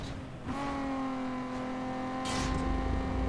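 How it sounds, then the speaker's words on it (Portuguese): A car in the racing game Need for Speed Underground 2 accelerates hard, its engine note jumping up and then holding a strong, buzzing tone that climbs slightly as the revs build. "acelerar fundo aqui para fazer a corrida mais rápida"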